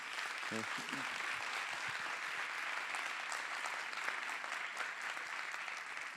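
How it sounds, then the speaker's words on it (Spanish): Audience applause for six panel participants at a neighbourhood dialogue round table, steady and dense for several seconds from a mid-distance crowd, with a brief voice near the start. "Quiero por favor pedir un aplauso a los 6 participantes."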